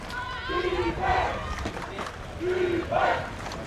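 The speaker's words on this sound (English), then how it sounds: "Kiwi crowd out shouting the Italians now, calling for their defence" At a women's canoe polo world championship final between New Zealand and Italy, a crowd shouts loudly in two rising waves of chanting voices, with drawn-out calls that swell and fade across a noisy, echoing venue.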